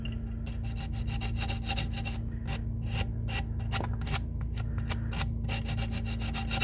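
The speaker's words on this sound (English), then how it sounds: "I'm going to sand this down a little bit" Sandpaper rubbing back and forth over a cured resin tray in steady, close strokes with brief pauses, continuous rasping throughout and no talking.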